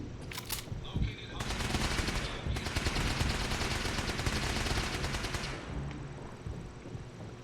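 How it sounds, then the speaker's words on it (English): Gunfire in the Fallout 4 video game: rapid automatic bursts, loud and sustained for several seconds, tapering into scattered shots, with a voice heard at times alongside the shooting. "Oh Lord, he's shooting."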